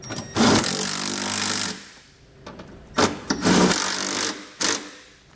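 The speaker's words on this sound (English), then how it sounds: "we can go back and tighten down our brackets to the frame. Our smaller bolts, we're going to use a 13mm socket." Nerf bar bracket bolts on a 2015 Ram 1500 are tightened with a 13mm socket. Loud bursts of buzzing impact-tool rattle come in several short runs of varying length, close up, with short pauses between them.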